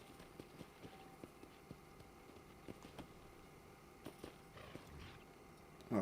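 Horse hooves clip-clopping in the western video game Red Dead Redemption, a faint, irregular series of soft hoof knocks at low volume, ending with a brief louder rustle.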